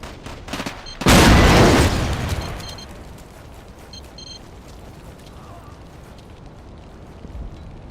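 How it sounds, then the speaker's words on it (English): A frag grenade goes off in Battlefield 2, a loud booming blast about a second in that rumbles away over a couple of seconds, with scattered gunfire pops and clicks before it and a quieter battle backdrop after. "Frag grenade."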